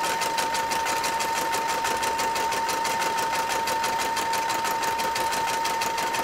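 A sewing machine runs steadily through free-motion stitching with a cording foot, a loud continuous whirr with rapid needle pulsing and a constant high hum, alone throughout.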